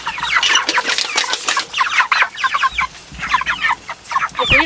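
Chickens in a coop, some very large, cluck steadily at close range in dense overlapping calls, with brief sharp squawks and no talking.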